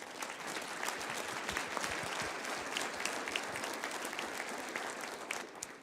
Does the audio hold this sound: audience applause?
yes